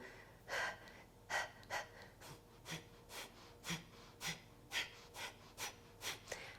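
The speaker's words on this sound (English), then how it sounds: "exhale in small, little, forceful exhales through the nose" A steady series of short, sharp nasal exhales from Kapalabhati breathing, about a dozen in quick rhythmic succession, each a brief forceful puff of air, close and fairly quiet.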